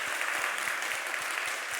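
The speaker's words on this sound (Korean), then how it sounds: "마음 담고 박수" A church congregation at a Parents' Sunday service applauds warmly during a gift presentation, a steady, moderately distant wash of clapping with a regular low thump beneath it.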